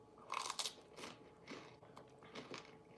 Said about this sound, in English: There's the crunch.